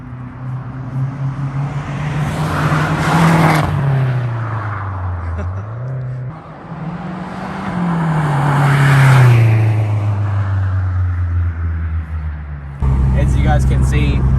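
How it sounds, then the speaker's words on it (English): A Mazdaspeed3 (MPS) hatchback makes two passes, each engine note swelling loud and pitching down as it sweeps by outdoors, with a steadier rumble close up at the end; someone talks over it. "that was a little cheeky flyby in the MPS"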